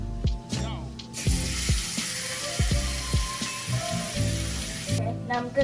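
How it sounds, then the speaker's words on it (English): Lamb chops frying in a pan give off a steady hiss and sizzle, with clinks and scrapes of utensils and bursts of running tap water over the top, all close by. "So now I'm just gonna put the lamb chops onto the frying pan."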